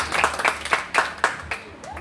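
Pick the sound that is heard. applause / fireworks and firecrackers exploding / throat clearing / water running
applause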